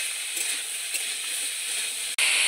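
Squash frying in a pan as tomatoes and peas go in, giving a steady broadband sizzle and hiss that holds evenly throughout, briefly cut off near the end before resuming at full strength.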